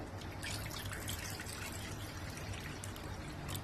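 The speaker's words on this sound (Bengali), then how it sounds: "আমি এখন এই পাত্রটা নিয়ে নিয়েছি, এটার মধ্যে জল দিয়ে দেবো" Water pours steadily into a pot for boiling Maggi noodles, a continuous close splashing and trickling rush lasting the whole stretch with no voices.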